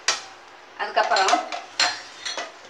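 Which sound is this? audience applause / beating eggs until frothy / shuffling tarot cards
beating eggs until frothy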